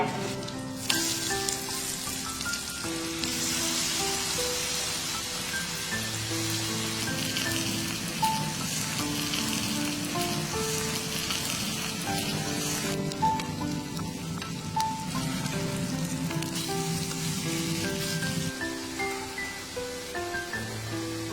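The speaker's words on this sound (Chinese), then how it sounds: "平底锅里刷点油，土豆丝儿捏成饼，放锅里煎。" A shredded potato pancake fries in a lightly oiled flat pan, giving a soft, continuous sizzle beneath steady background music.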